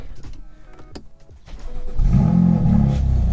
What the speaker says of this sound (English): battery discharged, start engine